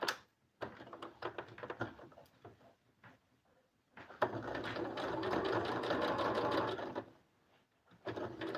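A sewing machine stitches a zipper in place on a patchwork zippered pouch, running in short bursts, then a long steady whirring run, then starting again, close and clear.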